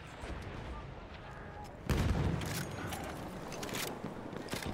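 A bomb explosion in the video game Battlefield 1 hits suddenly partway through, a loud broadband boom with a rumbling tail over dense battlefield gunfire and noise.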